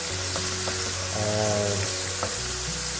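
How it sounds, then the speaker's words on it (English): Onions fry and brown in a pot for a one-pot chicken tikka biryani, giving a steady close sizzle with faint stirring crackles throughout and a low tonal hum underneath, and no voices. "you see that nice browning. Really important that those onions also cook through."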